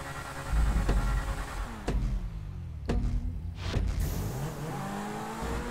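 Racing supercars in GTA Online: engines roaring and shifting through gears, pitch climbing and dropping with each shift, several sharp upshift cracks, close and loud with no talking.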